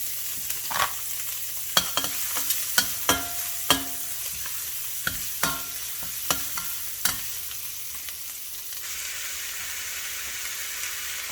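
Vegetable stir fry with pumpkin blossoms, green onions, carrots, celery, ginger and tomatoes sizzling in a pan, a steady close hiss punctuated by sharp spatula clicks and scrapes that fade out partway through.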